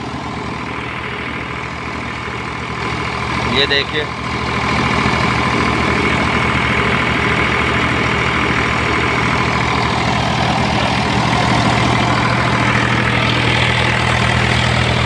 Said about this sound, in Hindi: वैसे खाली चल रहा ट्रैक्टर, बिल्कुल ट्रैक्टर पे कोई लोड नहीं है,